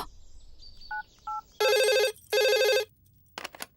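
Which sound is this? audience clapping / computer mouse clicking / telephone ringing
telephone ringing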